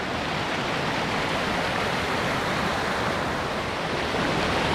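A backcountry stream rushing steadily, a dense, even wash of flowing water heard close and loud throughout with no voices.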